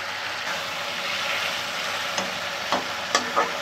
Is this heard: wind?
no